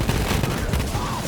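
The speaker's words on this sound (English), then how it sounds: "you basically pull the trigger and it deploys this huge volley of explosions. It's basically like a firework gun." The Cocky Flacco torque shotgun in Borderlands 3 fires a dense, continuous volley of explosions, a loud rumbling barrage of overlapping blasts with no pauses.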